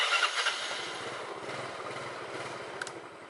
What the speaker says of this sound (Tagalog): may dala tayong motor. So magmumotor tayo.